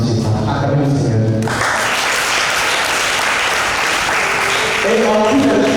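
A Catholic mission congregation at an official launch event claps and cheers in acclaim of the Lord, a loud, sustained burst of applause that swells after a brief spoken opening and continues steadily to the end.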